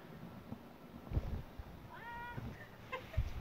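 A house cat gives a brief meow partway through, faint and mid-distance amid low room noise and a few soft knocks and thumps.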